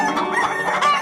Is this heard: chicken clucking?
yes